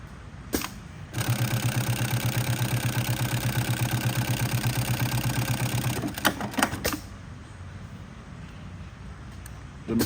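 A Highlead GC 24608 industrial sewing machine runs in a fast, even rapid-fire stitching patter for about five seconds, then stops with a few clicks and knocks, close and clear.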